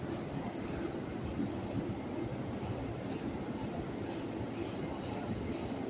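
Underground at the Times Square subway station in New York, a steady low rumble of trains fills the space, a constant broadband roar with faint crowd murmur beneath.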